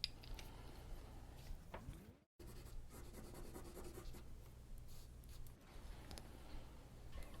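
Close, quiet scratchy strokes of charcoal shading on paper, soft rhythmic rubbing passes with a brief pause partway through, then more light back-and-forth strokes.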